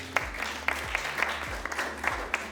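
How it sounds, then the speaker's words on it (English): Audience applause after a panel speaker at an Africa Day 2025 panel event: a brief, moderately faint patter of clapping hands with a few sharper claps, with no talk over it. "Let's give her a round of applause."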